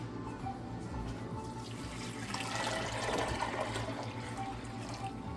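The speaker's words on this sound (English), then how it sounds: "I'm adding water because I already have chicken bouillon in my other parts." Water runs steadily into a pot for split pea soup, a soft continuous splashing pour that grows slightly fuller midway, heard alone and fairly quiet.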